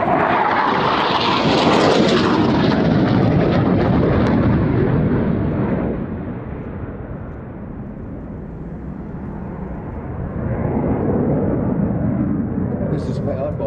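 A jet aircraft powered by a license-built Rolls-Royce Avon engine roars past at an air festival with its afterburner lit, a loud, sustained rumbling blast that dips and then swells again.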